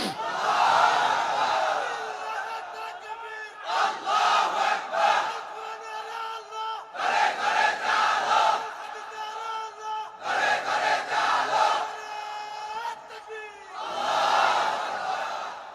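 A large crowd at an Islamic religious gathering chants takbir, Allahu Akbar, in loud, repeated bursts of many voices shouting together, separated by short pauses, with a single voice leading between the bursts.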